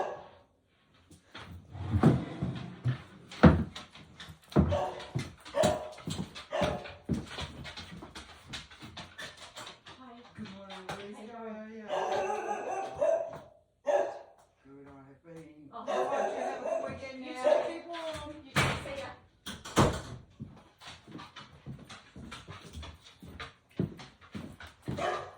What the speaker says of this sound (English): It's going to be knocking and barking.